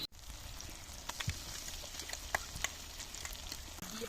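Cumin-coriander paste fries in a pan with onion and ginger-garlic, a fairly quiet continuous sizzle and bubbling crackle broken by occasional spatula scrapes and small pops, without any talking.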